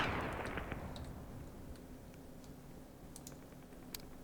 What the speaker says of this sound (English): mortars are trying to zero in on this position